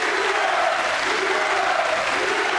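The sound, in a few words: bowling crowd applause, standing ovation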